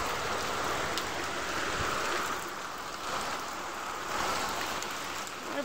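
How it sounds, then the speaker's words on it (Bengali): Heavy rain pours steadily onto a flat rooftop already flooded with water, with wind gusting, a dense, even roar that swells and eases slightly but never stops. "আর বৃষ্টি পড়ছে, কি আওয়াজ হচ্ছে!"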